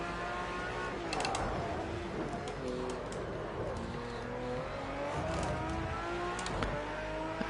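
A race car engine in a Le Mans racing game accelerates through its gears, each rising whine climbing in pitch before shifting, a steady mid-level drone with brief higher bursts.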